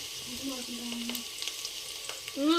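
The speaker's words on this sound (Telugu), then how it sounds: "ఉల్లిపాయలు కూడా వేసుకున్నాను మగ్గుతున్నాయి అనమాట" Onions and mint frying together for pulao, a close hiss of sizzling oil with light stirring and faint voices in the background.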